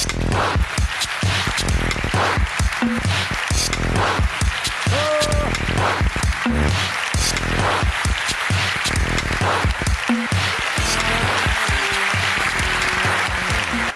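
Sustained, dense applause from a live audience greets Azerbaijani stand-up comedian Fəqan Məmmədov as he walks on stage, loud and steady throughout with scattered shouts and whistles.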